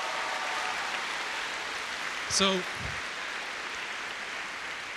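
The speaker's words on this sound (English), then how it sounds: "give them a huge round of applause." Audience applause at an opening ceremony, a steady broadband clatter of many hands filling the whole stretch at moderate level, with a brief spoken word cutting through midway.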